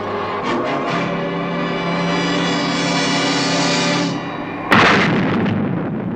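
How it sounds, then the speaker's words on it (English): Sting missiles launched from the submarine Stingray at an enemy craft over the sea: a long, loud rushing roar with a steady droning tone for about four seconds, then a sudden sharp blast and crackling aftermath. "We had just 3 seconds to fire the Sting missiles."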